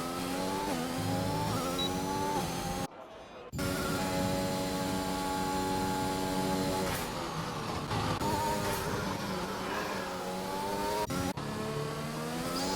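An F1 race car in a video game at the Russian circuit screams along at high revs, the whine climbing and dropping through gear shifts with a brief cut partway, loud and continuous.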